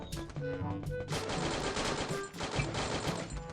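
Rapid automatic gunfire in the battle royale game Free Fire, a dense, loud, continuous burst of close shots with a few distinct bangs at the start.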